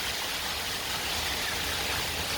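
A hailstorm blown off the sea on the Cornwall coast makes a steady, dense hiss of pelting ice and wind, even in level and unbroken throughout.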